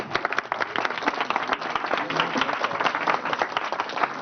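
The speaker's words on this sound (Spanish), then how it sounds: "Un fuerte aplauso." An audience at a conference applauds presenters about to discuss the Netflix series Bad Dinosaurs, giving loud, steady clapping with distinct individual claps throughout, close and continuous.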